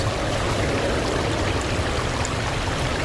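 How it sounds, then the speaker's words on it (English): A babbling brook at twilight flows in a steady, dense rush of water, loud and close, continuous throughout with no voices. "We're at a babbling brook right now, and now is the time to find the nocturnal creatures."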